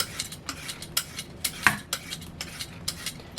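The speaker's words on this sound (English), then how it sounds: "So I have my vegetable peeler here." A vegetable peeler scraping the skin off a zucchini, making short, crisp strokes in a steady rhythm of about two per second, up close and with no voices.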